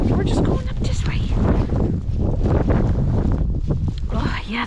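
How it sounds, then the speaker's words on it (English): Wind blowing snow during a February blizzard in Newfoundland, a steady rough rush of moderate strength buffeting the microphone, with faint voices and movement beneath it. "the wind. I mean, it's not very strong right now, but it's blowing. It's blowing the snow right in my face."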